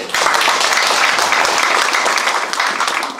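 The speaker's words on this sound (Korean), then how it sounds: "격려의 박수 한번 부탁드리겠습니다" A crowd at a town hall meeting in Hongseong County, South Korea applauds steadily throughout, dense clapping from many hands filling the room without pause.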